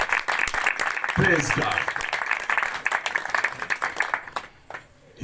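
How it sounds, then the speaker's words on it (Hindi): Congregation applause at a Hindi-language Christian church service, a burst of clapping and crowd noise that runs under a preacher's voice and fades toward the end. "जोरदार तालियां यस्सु के लिए।"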